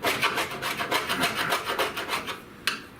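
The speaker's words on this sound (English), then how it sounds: "I just want to scrape all of this, as much of this off" Scraper rasping old coating off a car firewall during prep for paint, a steady run of close, rough strokes in quick rhythm, ending with a sharp tap.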